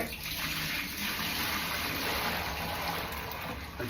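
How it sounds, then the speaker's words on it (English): Washing-up water being tipped out, a continuous rushing pour and splash held at an even, moderate level for several seconds with no talking. "Just tip the water out."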